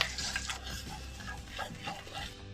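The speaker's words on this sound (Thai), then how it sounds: "ก็จะใช้พริกแกงเผ็ด ผัด ผัดไฟอ่อนๆก่อนนะคะ" Thai red curry paste is stir-fried over low heat in a pan, giving a continuous close scraping and stirring with faint sizzle and occasional utensil knocks, with no voices.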